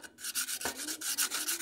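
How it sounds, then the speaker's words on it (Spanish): Sandpaper rubbing over the crystallized brake pads of a Whirlpool washing machine clutch, a close, steady run of rasping back-and-forth strokes with no talk. "hay que darle una lijada a las balatas de frenado"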